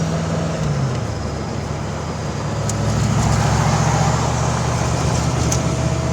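A 1989 Ford Mustang Fox Body driving in third gear, its engine a steady low drone under road and wind noise, growing slightly louder midway, with no talk.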